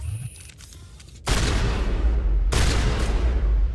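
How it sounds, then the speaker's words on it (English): Heavy shotgun blasts in Mass Effect Legendary Edition, two loud booming shots about a second apart, each with a broad crack and rumbling decay after quieter game ambience. "Let me switch to my shotgun."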